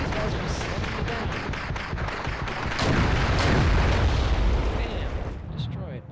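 Tank cannon fire and explosions from Wargame European Escalation, with heavy booms and crackling blasts piling up over continuous battlefield rumble, loud and dense, a voice talking over the top.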